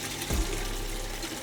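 Collected water from a full dehumidifier tank is poured into a bucket, giving a steady close rushing gush that continues throughout without talking.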